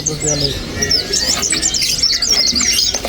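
A yellow-vented bulbul (trucuk) sings rapid, warbling chirps and trills in the manner of a cucak rowo, continuous and fairly close, with other faint bird calls and a voice in the background.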